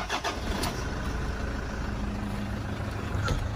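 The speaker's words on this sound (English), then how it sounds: "Start the car up for you so you can hear it." A 2015 Toyota Hilux SR5 engine cranks and catches, then settles into a steady, fairly loud idle with a low rumble.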